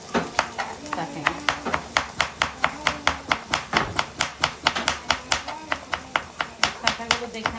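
A knife chops tomatoes on a cutting board in a fast, steady run of crisp knocks, roughly three per second, close and clear throughout.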